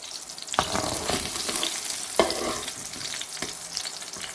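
Eggplant pieces frying in hot oil for an aloo baingan masala, a steady loud sizzle broken by a few sharp crackles and stirring scrapes, with no voices.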